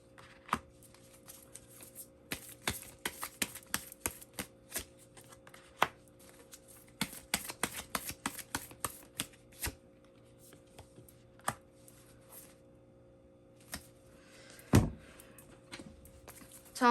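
Tarot cards being shuffled and drawn, a run of crisp, close paper flicks and riffles in bursts with brief pauses and a heavier thump near the end.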